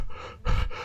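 A voice imitates a shocked character panting in a few short, breathy bursts, with a louder, heavier gasp in the middle, close and alone.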